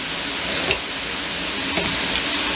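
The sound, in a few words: carrots frying with mince in a pan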